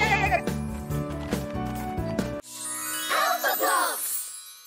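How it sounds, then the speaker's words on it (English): A cartoon goat bleats in a children's animated spelling show, a few wavering cries in the second half after a burst of bright jingling music, fairly close and clear with no talk over it. "Goat."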